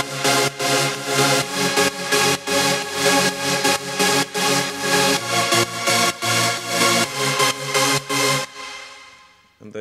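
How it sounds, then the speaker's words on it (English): Chopped piano chords in a progressive house track, played alone as a tight, steady rhythmic stab pattern of repeated short bursts that cuts off and fades at the end. "It's basically just like the piano chopped up into a pattern that I made."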